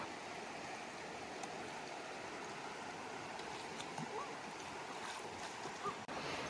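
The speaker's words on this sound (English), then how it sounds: "We just finished crossing this little river." A small mountain river on the John Muir Trail in the Sierras rushes steadily in a broad, even wash of flowing water, close and continuous, with faint clicks and no clear voices.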